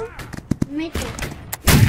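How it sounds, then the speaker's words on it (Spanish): Gunfire in the video game Holdfast, with several sharp shots and a heavier blast near the end, mixed with excited talking throughout. "¡Ese disparo me ha pasado muy cerca!"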